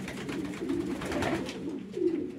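Soft, low cooing from homing pigeons pairing during breeding, close by, a couple of throaty rolling calls against faint background noise.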